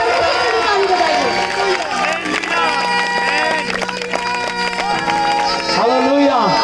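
A church congregation claps and cheers at a New Year service, a dense sustained wash of hands and voices with shouts and singing-like tones rising over it, loud and crowded throughout.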